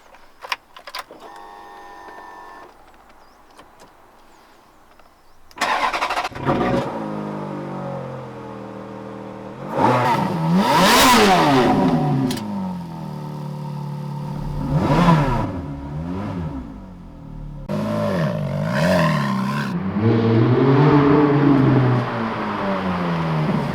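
A Ferrari F430's 4.3-litre V8 engine cranks and fires up, then revs loudly several times, each roar rising and falling before settling into a throaty idle.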